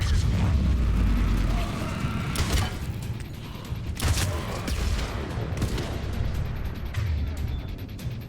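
Biotic detonations and gunfire from Mass Effect 3 Legendary Edition on a modded PC game, forming a dense, continuous din of layered booms, bursts and weapon fire with several sharper blasts standing out.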